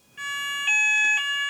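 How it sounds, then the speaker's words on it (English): A fire alarm goes off indoors with a loud, piercing electronic tone holding steady, pulsing slightly louder twice, with no speech over it. "Fire alarm's going off, David."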